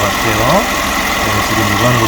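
Hyundai LF Sonata LPI car engine idling, a steady low hum close by with slight variation, brief and continuous.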